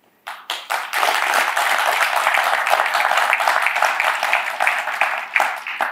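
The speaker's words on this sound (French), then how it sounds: "Je vais les saluer avec des applaudissements." An audience at a foundation gathering breaks into dense, steady applause, starting with a few scattered claps and then holding a full, even ovation close by for several seconds.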